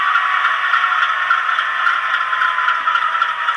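A steady, loud electronic whirring roar of dynamic brakes from a brass U25C model locomotive with TCS WOWsound, constant and close, with a faint rattle underneath.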